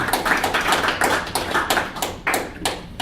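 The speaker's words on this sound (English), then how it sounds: "So give yourselves a round of applause, please." A modest audience at a talk gives a round of applause: uneven, scattered hand claps, fairly close, with individual sharp smacks standing out from a loose patter.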